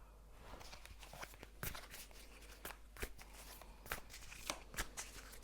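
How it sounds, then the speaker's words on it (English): Tarot cards are shuffled by hand at close range, quiet and soft, with irregular riffling flicks and brisk slaps of the deck rising out of a low background hum. "I'm going to shuffle"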